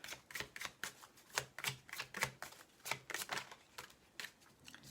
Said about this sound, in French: Allez, je vais tirer quelques cartes.